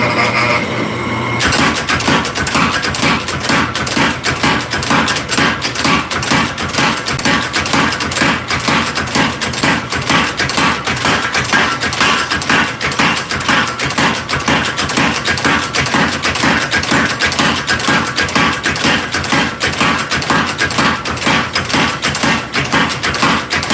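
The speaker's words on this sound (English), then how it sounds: "we're using the power hammer again to draw them out" Power hammer drawing out and tapering steel bar stock, a loud, steady rapid pounding that runs continuously for over twenty seconds after a brief start, close and alone without voices.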